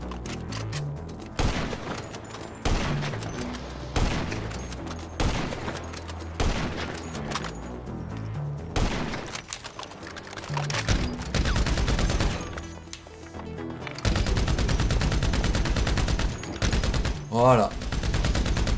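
A minigun in a video game fires long continuous bursts, a dense rapid roar broken by brief pauses and then resuming, loud and close, with a voice speaking at times.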